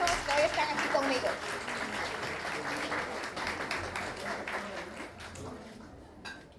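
A crowd at a magazine's third-anniversary celebration claps and applauds continuously, loud at first and gradually fading, with faint voices mixed in.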